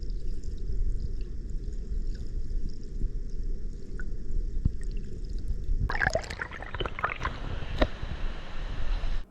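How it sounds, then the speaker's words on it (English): Lewis River Falls in Gifford Pinchot National Forest, a small portion of the river plunging a sheer 58 feet over a cliff, gives a steady broadband rush of falling water. Sharper splashing and spattering bursts rise over it about two-thirds of the way through. "allowing a small portion of the river to plunge a sheer 58 feet over the cliff"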